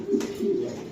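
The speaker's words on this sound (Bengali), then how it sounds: "ব্ল্যাক নেক একটা মাদি কবুতর।" A black-neck female racing pigeon coos close by, a short, soft, low throaty call in two brief pulses.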